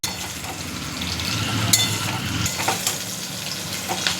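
Chicken pakora pieces for chilli chicken fry in a hot pan with a steady, close sizzle, while a spoon scrapes and stirs through them with clattering knocks against the metal.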